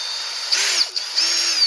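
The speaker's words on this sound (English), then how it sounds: "I just put the drill on slow and I just go all around in here" A drill runs at slow speed in a resin job, whirring close and steady with its pitch dipping and rising a few times as it moves around, loud and with no talk over it.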